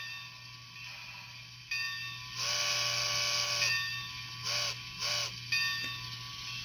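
An electronic train bell rings from a Soundtraxx Mini Cube speaker in a Bachmann Spectrum 80-ton HO scale Shay locomotive, several metallic dings in a short burst and then two more pairs, over a steady electrical hum.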